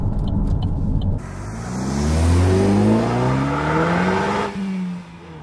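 Opel Astra J OPC with a 2-litre turbo four-cylinder revving hard, the engine note rising in a loud sustained climb from near and then dropping away, alone without talk.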